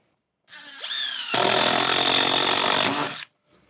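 A power driver sinks a single screw into a gable end rake, a close, loud whirring burst rising in pitch and lasting about two seconds before cutting off.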